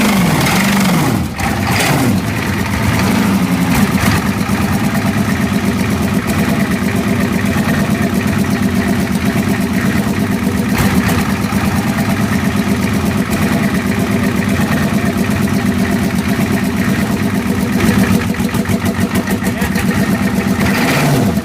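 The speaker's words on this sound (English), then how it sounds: "V8 engine, powers a Ford F-250 after sitting through a cold night." Cold start of a Navistar-built V8 in a Ford F-250 after a cold night: a loud, close diesel rumble that settles into a steady, rough idle with a constant clatter and no voices.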